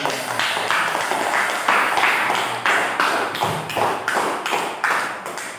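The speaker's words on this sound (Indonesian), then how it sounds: "Tepuk tangan buat Mas Lukman." A classroom audience of students claps in a school session, a steady run of about a dozen rhythmic bursts of hand claps, close and fairly loud with no talk over it.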